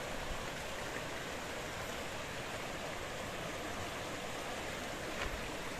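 A river stream flows beside a narrow village path near Tehran, giving a steady, broadband rushing wash that carries on without a break and with no voices.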